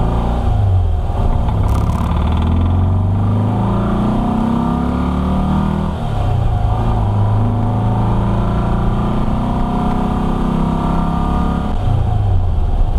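A 1964 VW Beetle engine with a newly installed Empi dual carburetor holds a steady, fairly high rev, droning loudly and continuously with slight pitch shifts, close by and with no talking.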